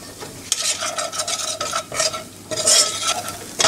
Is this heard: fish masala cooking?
yes